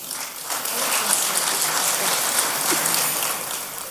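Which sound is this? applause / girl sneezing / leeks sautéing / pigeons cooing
applause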